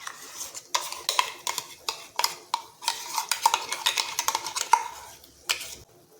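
Spices and masala paste for a fenugreek-leaf gravy curry are stirred in a pan, with quick, repeated spatula scrapes and clanks against the metal in uneven bursts close up and only a faint sizzle beneath.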